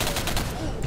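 Dense, loud gunfire from a jump shot in the first-person shooter Singularity, a brief continuous rattle of rapid shots with no clear gaps.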